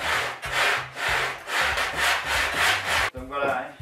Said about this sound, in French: Je vais venir poncer mon poussoir de sécurité.